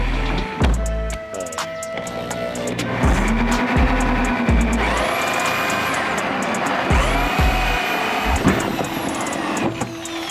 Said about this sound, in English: where I'm going to drill is on the deep end of any one of these corners